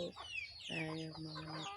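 Hens at a home coop giving a few short clucks, followed by a longer, drawn-out clucking call, close and clear over light background noise.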